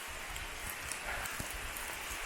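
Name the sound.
rain falling on forest canopy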